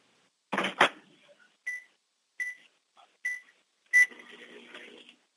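A short burst of clatter, then a series of sharp electronic beeps at intervals from a microwave oven, ending with a low hum as it starts running.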